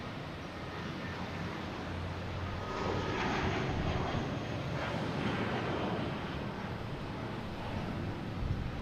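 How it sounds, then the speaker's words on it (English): A United Airbus A319 departs Boston Logan for Houston, its engine roar swelling to a steady, fairly distant rumble with a brief peak of louder thrust in the middle, mixed with some wind buffeting. "And that's United heading to Houston, A319"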